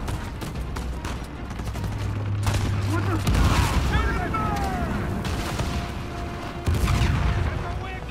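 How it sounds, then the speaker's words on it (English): Dense RPG blasts and gunfire in the Uncharted 4 video game, with heavy booms and rattling shots continuing throughout, loud and busy, with a voice speaking at moments. "Why are they shooting their own men with RPGs?"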